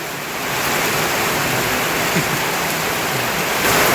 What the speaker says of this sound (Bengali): এই দেখুন কি বৃষ্টি।